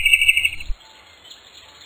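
Bird chirping in a bright, high trill that repeats rapidly for a moment, then stops, followed by near quiet and a faint short tone at the end; no talking.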